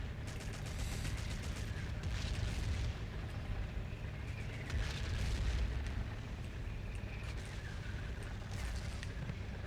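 Gunfire and explosions rumble in the first Battlefield video game, a dense, continuous din of shots and booming blasts that stays loud and steady throughout.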